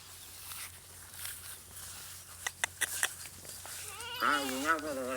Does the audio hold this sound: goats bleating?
yes